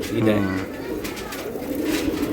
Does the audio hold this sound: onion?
no